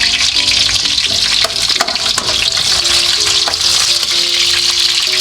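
Onion and garlic sizzle steadily in a hot pan while afritada is being cooked, a dense close frying hiss with occasional stirring scrapes and clinks throughout.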